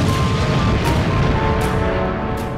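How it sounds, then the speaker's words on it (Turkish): A deep, heavy boom rumbles and rolls on for a couple of seconds, loud and close, evoking a torpedo striking a cargo ship at sea at night, with no voices. "saatler gece 11'i gösterdiğinde kulakları sağır eden korkunç bir patlama sesi duyuldu."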